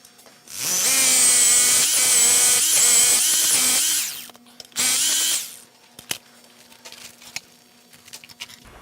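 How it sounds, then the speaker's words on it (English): A power drill whirs loudly and steadily for about four seconds while drilling holes for wedge anchors, stops, then runs again in a shorter burst, followed by quiet clinks and handling noises. "I'm going to drill some more holes."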